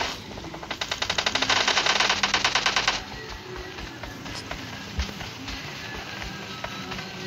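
Rapid automatic gunfire in PUBG Mobile Lite team deathmatch, a loud dense burst of evenly spaced shots for about three seconds, then a few scattered single shots over quieter game ambience.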